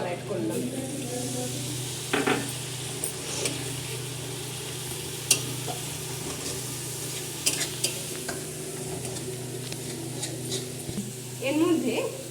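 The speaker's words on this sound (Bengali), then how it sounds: "আমার মশলা থেকে তেল ছেড়ে দিয়েছে। আমি সামান্য পরিমাণে এর মধ্যে জল অ্যাড করলাম।" Water is added to spice masala frying in oil, and the pan answers with a continuous sizzle under scraping stirs and a few sharp utensil knocks, ending in a louder hiss.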